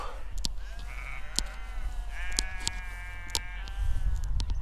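Freshly shorn ewes and lambs bleat and call to one another, several overlapping cries near and far, with low rumbling and a few sharp knocks in the background.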